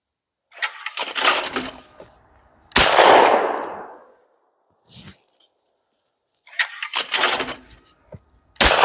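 A new over-under shotgun fires at thrown clay targets outdoors, giving sharp, loud blasts with ringing decay. Mechanical clatter from the clay thrower and handling noise fill the gaps between shots.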